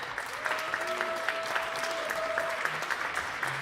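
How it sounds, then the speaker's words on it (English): Applause from the audience at a Philadelphia MLK Day of Service news conference, steady clapping through the whole stretch with a faint high tone drawn out over the middle. "One more round of applause"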